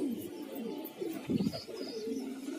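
Soft, low pigeon coos repeat several times at close range, murmuring over a faint background with no speech.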